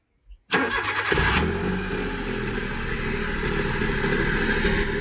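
A car engine cranks and catches after a brief silence, then settles into a steady, close idle that runs to the end, during a first-time driving lesson.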